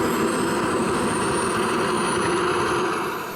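A model turbine jet aircraft engine running, giving a steady loud broadband roar with a thin high whine that slowly rises in pitch, easing off slightly at the end.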